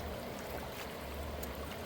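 Fast-flowing stream water rushes in a steady, loud wash at a glacial gold-prospecting spot, a continuous broadband roar with no voices over it.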